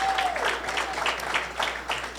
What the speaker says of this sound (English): Let's have a round of applause for Johnny Baklini.